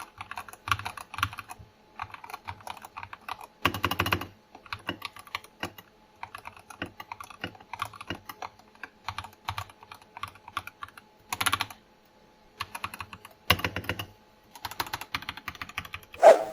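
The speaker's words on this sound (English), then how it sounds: "here's how the keyboard sounds." Typing on a Phantom Plus Elite mechanical keyboard, a thocky $89 board: quick runs of keystrokes in bursts with short pauses, close and clear, with a few louder heavy clusters like spacebar or multiple-key presses, no voices.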